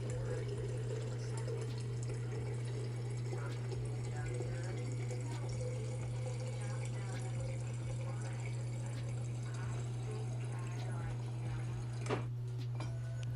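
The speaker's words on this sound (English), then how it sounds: "Here I am filling my water once again." Tap water running steadily into a water bottle at a kitchen sink, a continuous close splashing flow with a steady low hum underneath, ending with a brief clunk.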